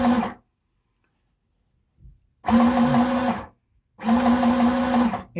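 A sewing machine stitches red cotton fabric for a skirt in three short, close mechanical whirring bursts separated by brief silences.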